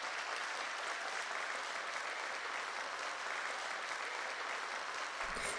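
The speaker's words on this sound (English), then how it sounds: "I exit the stage while the applause is still ongoing." Sustained applause from an audience after a stage performance in the video game Flowers, a steady dense clatter of clapping that fills the whole stretch evenly without pause.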